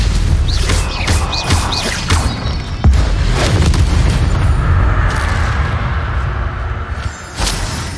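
Stupefy spell cast in a Harry Potter video game, a heavy booming blast with crashing bursts amid continuous loud game effects and rumble.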